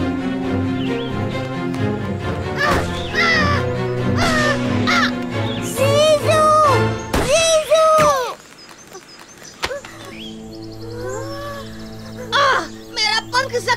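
A crow caws in an animated jungle scene, a handful of harsh calls rising above busy dialogue and music, loud and close, with talking voices throughout.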